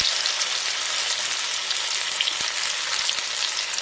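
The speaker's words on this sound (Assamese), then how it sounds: "এটি পিচ তেলত দিম। তাৰমানে তেল গৰম হৈছে, গতিকে মই ইয়াত আনাদাৰ পিচ এটা দিলোঁ" Bitter gourd pieces fry in hot oil with a loud, unbroken hiss and crackle that holds steady from start to finish, close to the pan and free of voices.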